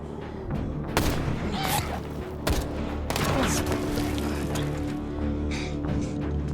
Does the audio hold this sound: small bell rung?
no